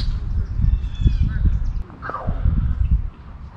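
An unidentified long-beaked bird calls a few times near the water during a bass fishing outing in New Jersey, its short cries standing out over a steady low rumble of wind or water.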